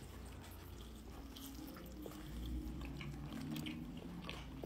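Someone bites into a Wendy's burger with a crunchy patty and marinara sauce and chews it close up, soft moist chewing sounds over a few seconds.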